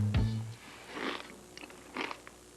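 Kellogg's Frosted Bran cereal crunched in a television commercial, three close bites spaced about a second apart, each a short crisp crackle, fairly quiet with no voices.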